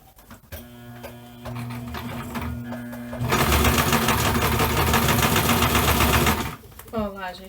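A sewing machine fitted with a presser foot for plastic stitches a straight hem on a plastic bib. First a short slow stretch, then a loud, fast, steady mechanical whir for about three seconds. A voice speaks briefly after it stops.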